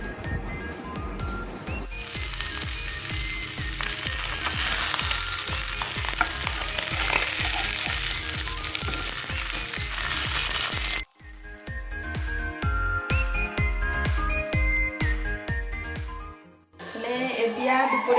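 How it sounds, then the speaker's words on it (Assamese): Okra frying in a pan gives a loud, steady sizzle with frequent clinks and scrapes of stirring. Partway through, the sizzle drops to a quieter crackle with sharper utensil taps. "এফালে ভেন্দি ভাজি আছো"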